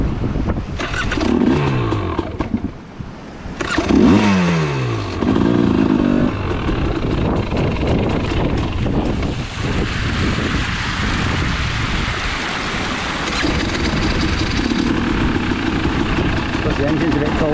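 A cold motorcycle engine idles steadily and loudly up close, its low rumble running throughout while people talk over it.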